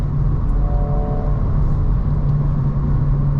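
An affordable manual car drives along with a steady, loud low engine drone and constant road rumble from inside the cabin, even and unbroken with no talk.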